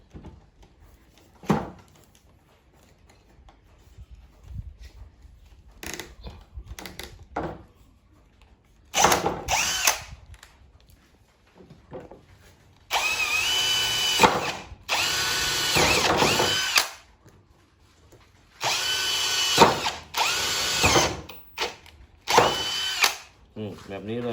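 A power drill bores through PVC pipe for a clothes-drying rack, firing in short whirring bursts and then longer grinding runs, close and loud, with quiet gaps and faint talk between.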